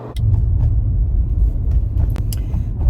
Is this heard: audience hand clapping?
no